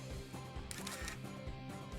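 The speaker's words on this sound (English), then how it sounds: "Just then, I heard the snap of a camera shutter." A sharp camera shutter snap in the visual novel Higurashi When They Cry: Watanagashi, a single brief click over steady background music.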